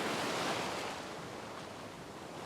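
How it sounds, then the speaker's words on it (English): Ocean waves breaking and washing onto a surf beach, a steady loud roar of surf with some wind across the microphone, close and continuous with no talking. "you can see these waves breaking here"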